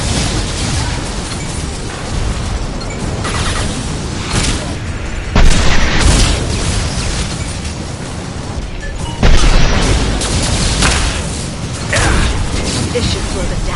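Heavy weapon blasts go off in the Mass Effect 2 video game, with dense rumbling explosions and mechanical clatter rising in several loud bursts across a continuous noisy battle.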